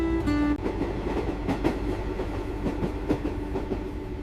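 A train runs along the coast in Vietnam with a steady rumble and rhythmic clickety-clack of the wheels heard from inside, moderately loud and continuous with no talking.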